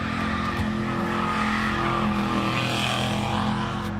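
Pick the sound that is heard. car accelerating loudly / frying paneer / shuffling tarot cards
car accelerating loudly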